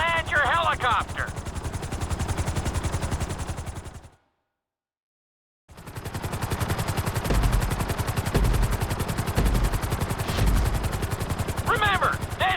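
A helicopter in Grand Theft Auto 5 during a flight-school course, a continuous rhythmic rotor chop and engine drone cut by a brief silence, with short game beeps or voices over it.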